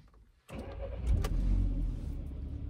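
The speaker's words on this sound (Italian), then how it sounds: "vado a riaccendere la macchina" An Audi A1 car engine cranks and catches after a quiet moment, then settles into a steady close idle.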